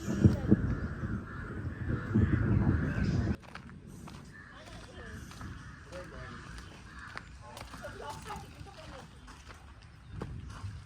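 Crows caw repeatedly in the open at Bhandardara Dam, Nashik, during the monsoon, while a person talks over the first few seconds, followed by scattered footsteps and more caws.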